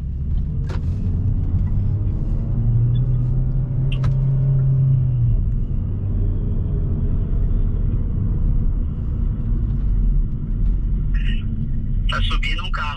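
Inside a car, either a Chevrolet Cruze 1.4 turbo or a Volkswagen Up TSI Stage 2, the engine pulls away from a standstill, a steady low rumble with a brief rising tone, while people talk loudly over it.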